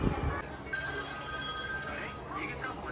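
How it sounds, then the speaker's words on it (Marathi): A telephone rings with steady electronic tones indoors in a home during preparations for a Tulsi wedding ritual, continuous under background activity and talk. "फोनचा आवाज कमी कर जरा"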